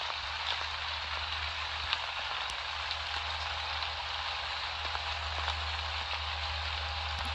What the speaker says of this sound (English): Looks like it's raining, guys.